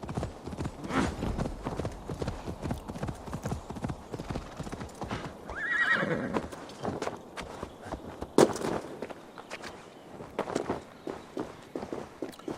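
Rhythmic clip-clop of horse hooves moving at a steady pace in the video game Assassin's Creed Valhalla, with a horse whinnying midway and a sharp thud; game-like sound effects throughout.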